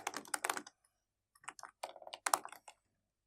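Close keystrokes on a computer keyboard while entering product details in a web content editor, coming in quick clattering bursts with short pauses between them and no voices.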